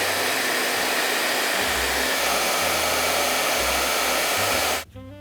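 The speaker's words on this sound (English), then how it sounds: "I ran the hairdryer actually on high heat and high fan speed" A hairdryer on high heat and high fan speed, held a few inches from leather shoes being shined, blows with a loud, steady whooshing whine for almost five seconds. It then switches off abruptly and a brief fading hum follows.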